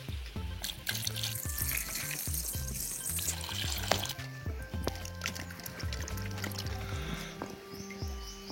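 Tap water running steadily and splashing while banana leaves and other ingredients are rinsed for chicken banana-leaf biryani, a continuous close stream with clinking vessel sounds throughout.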